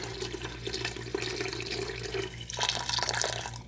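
Hot water poured into a pot of cooking rice, a close splashing trickle that swells louder near the end over a low steady hum, with no talk.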